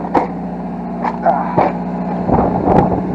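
An engine idles slightly high after its idle was raised to stop it stalling, running through an aftermarket exhaust with little power. A steady low hum runs throughout, broken by several brief louder bursts.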